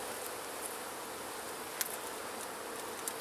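Honey bees around an open hive in October, an unhappy swarm droning as a dense, even buzz, with a few brief individual bees zipping close past.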